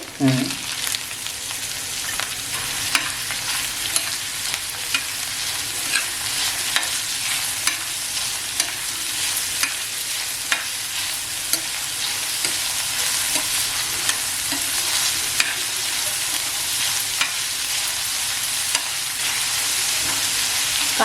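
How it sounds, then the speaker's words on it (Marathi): Chopped onion fries in a pan, a continuous close sizzle carrying on for about twenty seconds, broken by regular light clicks and scrapes of stirring. "आता याच्यात आहे ना मी कांदा टाकून घेते"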